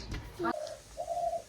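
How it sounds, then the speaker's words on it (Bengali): A dove calls nearby outdoors, giving two short, soft coos in quick succession over faint background noise. "ঘুঘু পাখিটা ডাকছে, দেখেছিস?"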